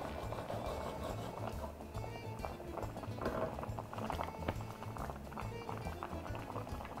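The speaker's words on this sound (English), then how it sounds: "Here it is. It's boiling." Egg lemon sauce for Greek cabbage rolls boiling in a pot, a steady low bubbling and simmering close by, faint and continuous throughout with no talk.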